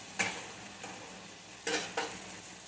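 Spiced okra (bhindi) stirred in a pan, faint sizzling under several short scraping strokes of a spoon, quiet and close with no voices.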